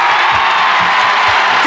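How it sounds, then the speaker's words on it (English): Loud, dense roar of a huge crowd cheering and whooping at a Carlton versus Collingwood AFL game at the MCG, a brief wash of distant voices swelling together. "Huge crowd at the MCG."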